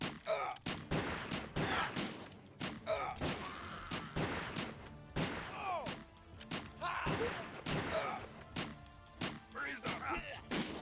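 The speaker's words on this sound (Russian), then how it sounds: "Наконец-то выстрелил." Gunfire in the video game Another War comes as sharp, loud shots spread across the scene, with crashes and thuds between them and someone talking over parts of it.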